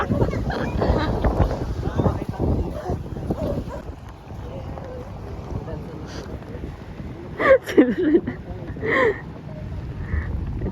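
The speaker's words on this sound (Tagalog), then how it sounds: "Ito na ang bangka, nakita namin." Low rumble of a boat engine and water with wind buffeting the mic, people talking over it, and a dog barking a few times near the end.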